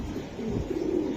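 A racing pigeon hatched in 2016 gives a short, low, steady coo, heard close up with no talking.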